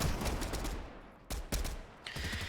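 Rapid bursts of gunfire in a Fortnite match, a rattling volley that fades, then two sharp short bursts and a final burst, fairly close and dense.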